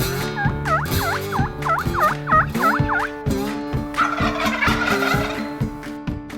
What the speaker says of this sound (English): You hear a bird down in the canyon, another bird up this way.